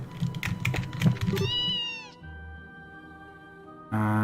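Cat meow sound effect in the video game The Legend of Heroes: Trails in the Sky, a short tonal game meow and chime after a burst of keyboard-like clicking, then a brief new sound at the end.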